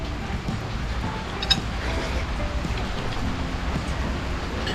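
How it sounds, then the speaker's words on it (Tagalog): Heavy rain pours down steadily as a dense, continuous hiss of drops drumming on surfaces, loud and close throughout with no voices over it. "Grabe, lumakas ang ulan."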